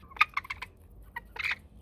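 Pet hens clucking while pecking at millet, several short close chirpy clucks in quick bursts with a brief pause between groups.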